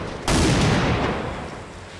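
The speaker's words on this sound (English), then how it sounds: "we used naphthalene bombs to do the explosion initially out of the window" A propane and naphthalene bomb goes off as a film special effect, one sudden loud blast that booms and then rumbles away slowly over about two seconds.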